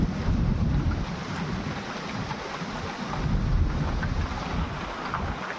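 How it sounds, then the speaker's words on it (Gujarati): Strong wind gusts buffet the microphone outdoors on a farm during unseasonal rain weather, a steady loud broadband roar with surging swells throughout and no voices. "આ બાજુ બહુ વળી પવનની શક્તિ આવે એટલે વળી આવી જાય ચાલુ અત્યારે"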